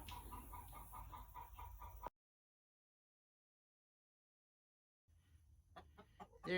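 A hen clucking in a nesting box, close soft rhythmic clucks for about two seconds, then silence, then quieter clucks and rustling resuming near the end.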